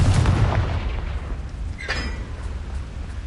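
A Confringo fire spell explodes in Hogwarts Legacy, a loud booming blast at the very start that rolls off into a rumbling tail, with a second, softer burst a moment later.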